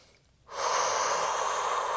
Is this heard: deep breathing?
yes